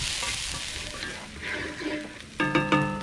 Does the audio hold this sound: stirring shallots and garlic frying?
yes